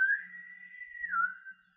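A person whistles in imitation of a bosun's whistle, giving one sustained high tone that holds steady, then bends downward and trails off, with no speech.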